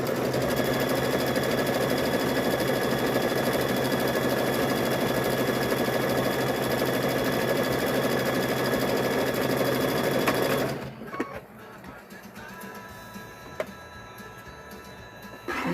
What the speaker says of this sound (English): So we're going to just sew.